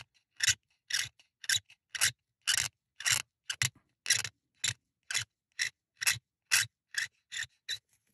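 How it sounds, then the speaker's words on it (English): Sandpaper rubbed back and forth over an ivory 1911 pistol grip, a steady run of about seventeen short, close, rasping strokes in an even rhythm, with no voices. "I'll go over it with various grades of sandpaper to finish leveling and smoothing it."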